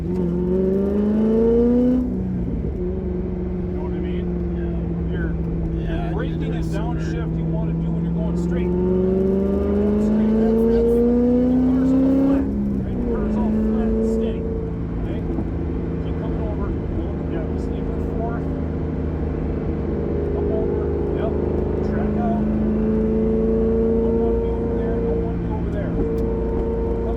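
Corvette driven hard around a road course during a high-performance driving school session, its engine note rising and falling steadily through acceleration and braking, loud and close throughout as if heard from inside the car.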